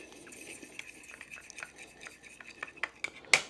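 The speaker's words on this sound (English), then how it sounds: "Then we mix it with the knife." Knife stirring chamoy michelada mix in a glass, heard as light, close scraping and clinking taps at an uneven pace, ending in one sharper ring.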